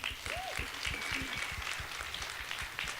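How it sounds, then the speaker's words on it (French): Audience applause at a French-language show, a steady wash of clapping with a few louder claps and a brief vocal whoop near the start, moderately distant. "Grosse main d'applaudissements."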